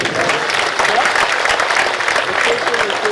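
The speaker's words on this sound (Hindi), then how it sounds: "एक बार इन वीरेंद्र जी के लिए ताली बजाइए।" Audience applause at a Bhagwat Katha gathering in Antop Hill, Mumbai, a large crowd clapping steadily and loudly in a dense, continuous wash for about three seconds.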